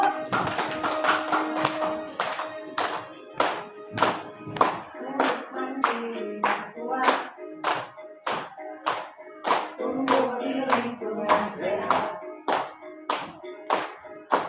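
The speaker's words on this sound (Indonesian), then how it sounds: "Boleh kita tepuk tangan Bapak Ibu" An audience claps its hands in rhythm along with a song at a counselling session, with steady repeated claps over music, clear and moderately loud throughout.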